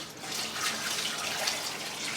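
Tap water runs steadily into a sink, rinsing food to wash out the starch, a continuous close splashing hiss with no talking.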